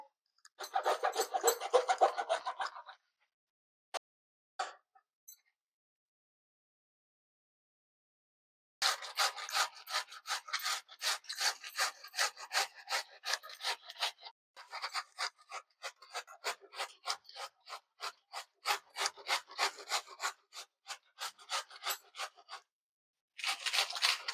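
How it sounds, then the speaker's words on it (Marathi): Cauliflower rubbed against a hand grater for a crispy wadi snack, fast rhythmic rasping strokes in long runs broken by pauses and a few isolated scrapes, close and crisp with no voices. "छान कापून खिसून घ्यायची खिसून घेतली तर"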